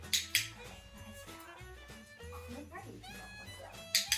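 An excited dog yips and whimpers during hoop-jumping training, with sharp high bursts at the start and end while someone talks over it and dishes faintly clink.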